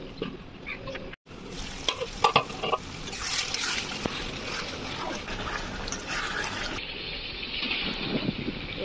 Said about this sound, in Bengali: এবার একটু নাড়াচাড়া করে